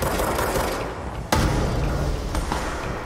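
Gunfire and a sharp explosive thump from the action video game Control, a dense layer of shots running throughout with one loud impact burst partway through, close and full.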